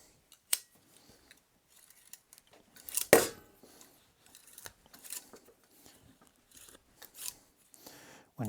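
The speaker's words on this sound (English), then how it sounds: "we take our Lockwire pliers and clamp the Lockwire in there, we slide this barrel back" Lockwire pliers clamp and twist safety wire in an aviation workshop, giving sharp metallic clicks and snips at irregular intervals, close up and otherwise quiet, with a louder cluster of clicks partway through.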